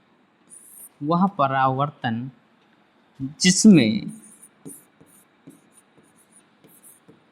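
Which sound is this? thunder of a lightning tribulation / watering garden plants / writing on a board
writing on a board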